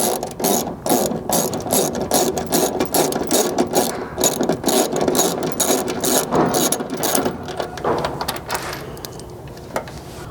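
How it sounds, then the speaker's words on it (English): A hand riv nut tool ratchets rapidly as it sets a nut insert into a mounting hole in the bed side of a third-generation Chevy Colorado, a loud close run of quick mechanical clicks that slows near the end. "you can reassemble your tool with a new riv nut and repeat that process on your remaining 3 holes"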